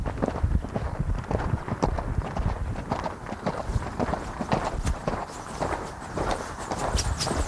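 Hoof beats of a Tennessee Walking Horse at a canter, a steady rhythmic clip-clop of hooves close by and continuing without pause throughout.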